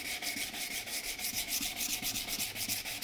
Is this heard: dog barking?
no